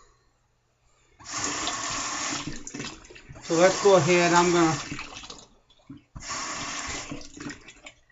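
Tap water runs in bursts while it is added to a sudsy shaving lather, a loud, close splashing rush that stops and restarts, with someone talking briefly over it.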